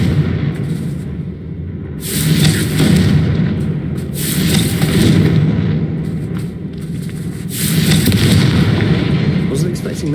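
Confringo blasting spell going off in the video game Hogwarts Legacy: heavy booming blasts in repeated waves, loud and rumbling, rising and falling across the stretch with brief lulls between bursts.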